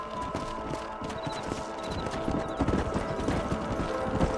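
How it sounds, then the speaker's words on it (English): Horse hooves clip-clop at a steady walking rhythm in Red Dead Redemption, several horses close by under faint ambient game sound, with a brief whinny-like tone. "Stay with the horses."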